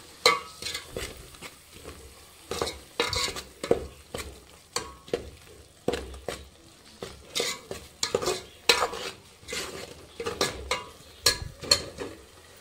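Chopped green chilies and spices being stirred into a pumpkin curry in a pan, with repeated scraping strokes of a spoon against the metal over a soft, steady sizzle, close and fairly loud throughout.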